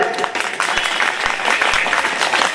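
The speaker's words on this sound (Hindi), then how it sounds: "बजाओ तालियां।" An audience applauding at a village gathering, a dense burst of clapping throughout with voices mixed in.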